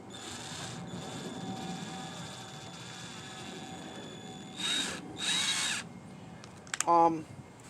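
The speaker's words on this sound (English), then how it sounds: "I'm going to screw this in very, very gently" A power drill runs in short bursts driving a screw into wooden model railroad benchwork, a faint whine first, then two louder pulses and a final brief grinding burst.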